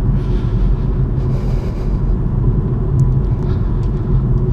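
A BMW M135i engine pulls steadily in third gear on a road in northern Scotland, a loud, continuous low rumble with road and wind noise, heard from inside the car with no talking.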